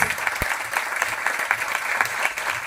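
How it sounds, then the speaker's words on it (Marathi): A crowd at a ceremony welcoming newly elected members of a Maharashtra children's theatre body breaks into sustained, rhythmic applause, dense and fairly loud with individual claps standing out near the front. "जोरात टाळ्या वाजवून या 17 सभासद"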